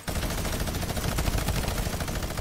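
Continuous minigun fire in the Fortnite battle royale video game, a loud, dense, unbroken stream of rapid shots filling the whole stretch without pause.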